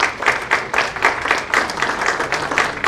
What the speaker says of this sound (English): Can we have a round of applause for Major Harsh Kumar?